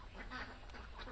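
Ducks on a village farm call out for their feed with a few short, faint, nasal quacks in quick succession.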